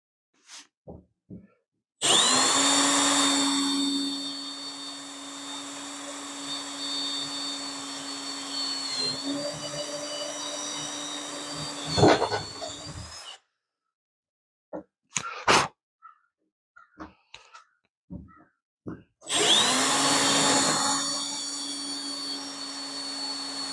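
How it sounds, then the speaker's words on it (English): A power drill whines loudly for several seconds, pitch shifting as it bites while drilling out rivets in a fiberglass hardtop, then stops; clicks and clunks follow before the drill starts again. "So I'll just drill out the other two"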